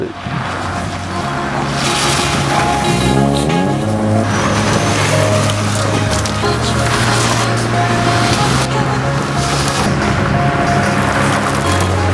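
A Saab 9-5 Griffin drives on a small dirt race track, heard from inside the car. A loud, steady engine drone rises through the gears with a rough rumble underneath and no talk.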